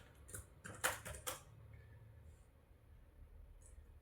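Keys clatter on a computer keyboard as code is typed, a short burst of quick, close, fairly soft clicks in the first second and a half, then near quiet with only a faint tap or two.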